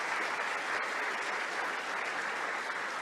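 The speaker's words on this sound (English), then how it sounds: "Let's give them a round of applause for that." Steady applause from a sizable benefit gala audience, dense clapping sustained throughout without a break.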